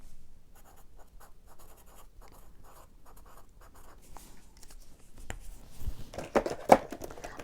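Bic Intensity fine and ultra-fine markers scratch across paper in short, quiet swatching strokes, a soft rhythmic scribble that ends with a few louder taps and handling sounds.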